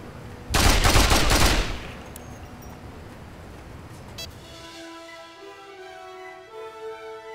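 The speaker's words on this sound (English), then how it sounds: "AK-47, good enough." AK-47 fire in the video game Mercenaries 2: one loud, rapid automatic burst lasting about a second, followed by lingering echo and game ambience with a steady tonal hum.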